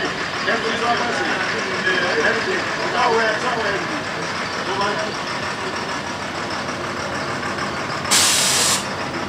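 A large police intervention vehicle idles and rumbles past at a Haitian National Police anniversary ceremony, with someone narrating over it and a sharp hiss of air brakes near the end.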